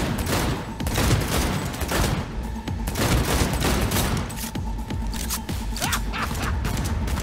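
Sustained gunfire in the shooter game Cyberpunk 2077, dense overlapping bursts and single shots cracking continuously for several seconds, loud and close with a busy combat din underneath.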